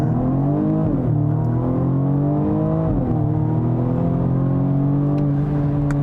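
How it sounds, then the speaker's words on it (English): A 2020 BMW M235i Gran Coupe's engine roars loudly and steadily during a launch-control start, pitch climbing and dropping with two quick gear shifts. "I do want to test out this car's launch control"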